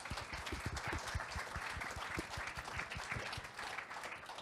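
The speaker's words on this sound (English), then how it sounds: "A round of applause," A small audience claps for panelists at the close of a hospital-technology discussion, producing soft, steady applause with dense, evenly spread hand claps and no talking over it.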